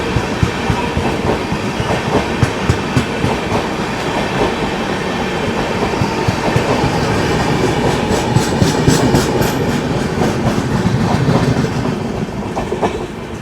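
A brand-new rake of the Delhi–Patna AC special train pulling out of Ghaziabad Junction, heard from on board: loud continuous rumble with rhythmic clickety-clack of wheels over rail joints, a brief squeal of wheels, no talking.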